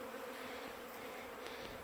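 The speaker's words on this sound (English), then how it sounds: "I got bees covering all of these top bars" Honeybees in a winter hive in January, its top blown off, hum as a steady, dense buzz that holds even and continuous throughout, close and fairly loud with no voices.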